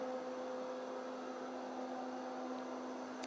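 Honiture G20 budget robot vacuum sweeping in normal hoover mode, a steady continuous motor whir with a constant tonal hum, moderately near and unchanging throughout, with no talk.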